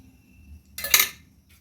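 Flour being mixed with hot ghee in a pan: a single short metallic scrape of a utensil against the pan, close and distinct against near silence.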